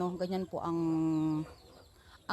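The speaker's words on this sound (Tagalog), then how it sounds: "Nag-aantay na sila actually. Maingay na ang mga alaga ni Inday." A hen gives a few short clucks, then a longer drawn-out call, close by with a quiet backyard background.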